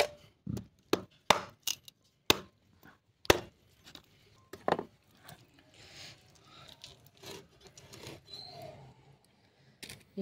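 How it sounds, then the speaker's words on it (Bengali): Duck meat being chopped into big pieces, with a string of sharp cleaver thuds on a board in the first few seconds, then softer, scattered knocks and handling noises. "ভালো করে পিস করে নেবো, সুন্দর সুন্দর করে, বড় বড় করে পিস হবে একটু।"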